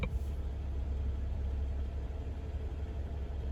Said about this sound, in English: The engine is actually running at the moment.